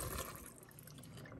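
A jar of filtered water is poured over spaghetti in an Instant Pot, making a brief soft splashing, trickling pour, faint and close.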